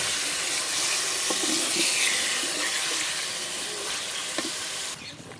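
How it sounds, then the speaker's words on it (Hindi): Chicken pieces frying in a pan for a karahi, a dense continuous hiss with a few soft clicks of utensils, steady and close, easing slightly at the very end. "इत्थे चिकन की थोड़ी जी भुनाई करसा।"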